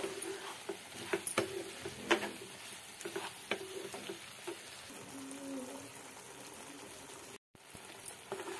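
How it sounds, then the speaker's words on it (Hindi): Mushrooms fry in a pan with softened tomato for a biryani, giving a quiet, steady sizzle and soft stirring scrapes and taps, fairly faint and close, with a brief dropout near the end. "मशरूम को भी डाल अच्छे से भून लेंगे।"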